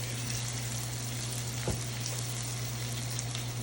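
Onions and garlic fry in a cast iron pan beside a NY strip steak, giving a steady, close, even sizzle with no voices.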